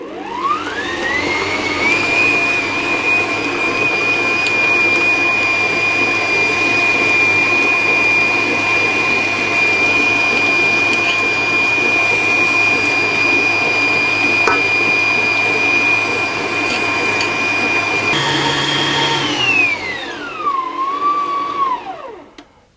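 Stand mixer with a dough hook kneading butter into brioche dough: a steady, loud motor whine with a fixed high tone holds for about eighteen seconds, then winds down and stops, with no talking.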